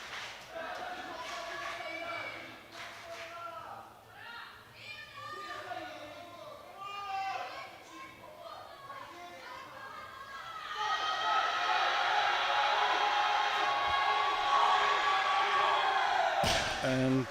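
Brazilian crowd at a world sub-junior and junior powerlifting championship, women's 69 kg classic: an announcer talks over a murmuring audience, then the crowd swells into loud sustained cheering and whooping for the final lift.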